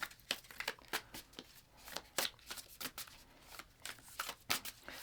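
Oracle cards are shuffled by hand at close range, giving quick irregular riffling and papery slaps in short bursts, fairly quiet.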